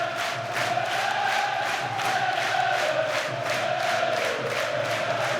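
A 10,000-strong football crowd at the Proact Stadium for Chesterfield vs Preston North End in a play-off semi-final first leg, singing and chanting in a sustained roar with a steady rhythmic pulse.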